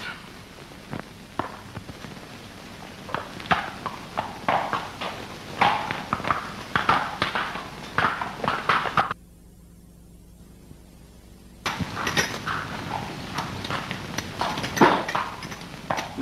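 Horse hooves clip-clop steadily on a road in a 1951 Bollywood film, a brisk loud rhythmic clatter that cuts out for a few seconds and then resumes.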